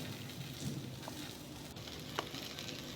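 Vegetable cheese appe browning on their second side in an appe pan give a steady, soft sizzle throughout, with a couple of faint ticks and no voices.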